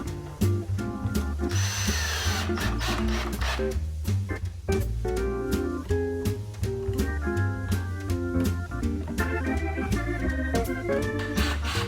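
Power drill driving 2.5 inch screws into a wooden work table frame, with repeated loud bursts of whirring and short pauses between screws, close up and continuous.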